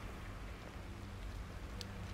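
Steady rain pours down in The Evil Within, a constant soft hiss of drops bouncing off surfaces, even and fairly quiet with no voices.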